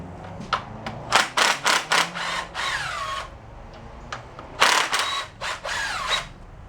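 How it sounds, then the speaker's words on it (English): Oil pump being removed from a 1941 Farmall tractor engine, with a close series of sharp ratcheting tool bursts in quick rhythmic clusters, broken by short pauses of quieter workshop ambience. "Make sure we get that oil pump out of the way."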